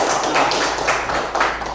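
A classroom of students claps together in a dense, steady burst of applause lasting under two seconds, loud and close with no talk over it.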